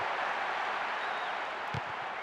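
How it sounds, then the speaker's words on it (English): A PES 6 football match on PS2 at kickoff brings a broad, steady roar of stadium crowd and applause, loud and sustained throughout. "big roar from the crowd as the game gets underway"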